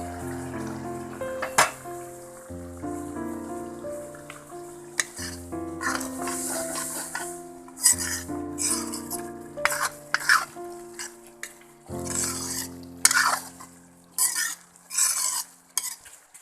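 Boiling water poured in stages onto boiled pork with masoor dal cooked without oil, with a clattering spoon stirring the pot and scraping the metal pan, and sizzles and splashes in bursts.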